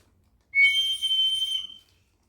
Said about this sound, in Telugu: ఇది కొన్ని విజిల్ సౌండ్ అనమాట